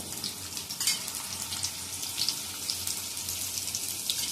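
Asafoetida and onion fry in hot oil, producing a close, crackling hiss with small pops and a brief burst of sizzle as they hit the pan.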